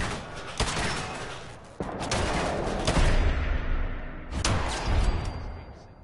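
Bursts of gunfire in Fallout 4 during a Brotherhood of Steel ending fight, loud close shots and volleys with sharp impacts and a rumbling tail between bursts.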